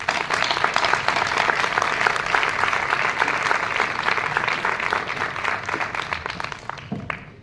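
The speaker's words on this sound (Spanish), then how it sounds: "Rocío, un aplauso." A dense, continuous wash of applause from an audience in a hall at an ex-alcoholics association gathering, loud and sustained throughout before tapering slightly at the end.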